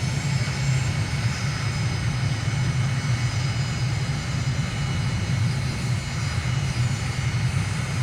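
A jet airplane in a flight simulator game at Ankara, Turkey, gives a continuous loud engine roar on takeoff at sunset, with a deep rumble and a steady hiss that hold level throughout.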